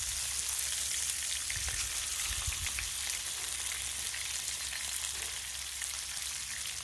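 Strips of bacon frying on a Blackstone griddle, a steady crackling sizzle with fine spattering pops held at an even level throughout.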